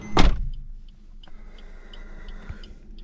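Electric outside mirrors folding on a Suzuki S-Cross 1.6 diesel, a sharp click at the start followed by a quiet, steady motor whir lasting a couple of seconds inside the cabin.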